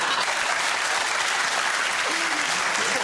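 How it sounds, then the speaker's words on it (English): Studio audience at a television panel comedy show applauding loudly and continuously, a dense, even wash of clapping with some crowd murmur throughout. "Not everyone applauding."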